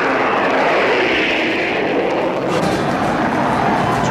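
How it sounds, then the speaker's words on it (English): Propeller planes at a World War II military history display fly overhead, a loud steady engine drone that fills the whole stretch, with faint voices underneath. "Now planes are going overhead."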